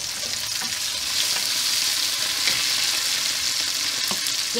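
Tomatoes and bay leaf frying in a pan for chickpeas with oseng tempe spices, a loud, dense, continuous sizzle from close by with faint stirring scrapes underneath.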